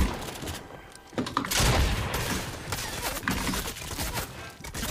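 Rapid bursts of gunfire in a Free Fire-style battle royale match, sharp repeated shots and impacts filling the mix at steady loudness, with no clear voice over them.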